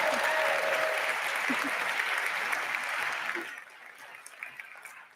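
An event audience applauds loudly, then the clapping fades and trails off while a speaker talks over it.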